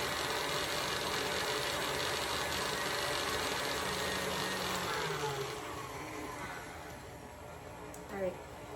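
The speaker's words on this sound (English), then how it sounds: "putting my mixer on low" An electric hand mixer hums steadily on low speed while cream cheese frosting for pumpkin cookies is beaten, a continuous whirring drone that fades near the end, with a brief clink.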